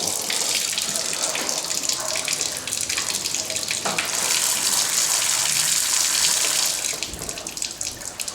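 Water sprays hard from a drain valve on galvanized household water lines being flushed to restore pressure, a loud continuous hiss and gush throughout that eases slightly near the end.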